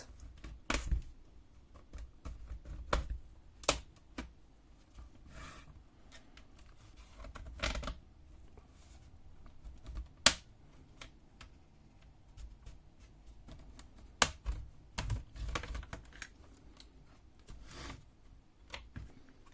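A plastic pry tool slides around the seams of a Dell Inspiron 15 5567 laptop's plastic case, making scattered faint scrapes and sharp clicking snaps at irregular intervals, close by and quiet, with no talk.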